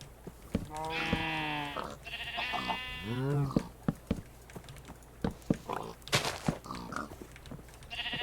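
A crowd of Minecraft sheep bleats in overlapping bursts, several loud calls near the start, then scattered shorter bleats and clicks keep popping up quickly over a faint game background.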